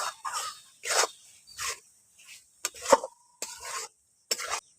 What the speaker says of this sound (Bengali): লবণটা দিয়ে ভালো করে মিশিয়ে নিচ্ছি